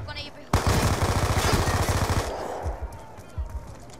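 Rapid automatic gunfire from a video game weapon shooting down a UAV, a loud sustained burst of closely spaced shots for about two seconds, then scattered shots trailing off.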